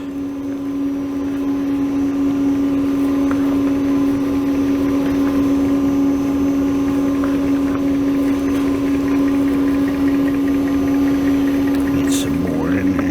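An ice cream machine churning honey pistachio lavender ice cream, its motor running at higher speed with a steady, loud hum and tonal whine that continues unbroken throughout, with faint speech mixed in.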